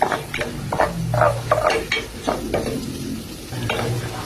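Tilapia sizzles as it sautés in a frying pan for sarsiado, with steady frying hiss broken by repeated rhythmic scraping and stirring strokes against the pan.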